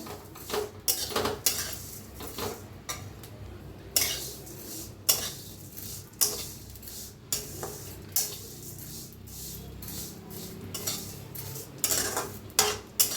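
A spoon stirs and roasts food in ghee in a metal pan, making repeated close clinks and scrapes at an uneven rhythm over a faint background hiss.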